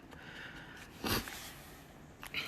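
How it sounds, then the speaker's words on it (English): A single short, breathy allergy sniffle through the nose, close and fairly soft, in an otherwise quiet room. "Sorry for the sniffles, my allergies are playing up again."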